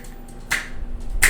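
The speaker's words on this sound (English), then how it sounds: "The weirdest thing I can do is snap with all 4 fingers." Finger snaps, two sharp crisp snaps made using all four fingers, close and loud, spaced about 0.7 seconds apart with quiet room tone between.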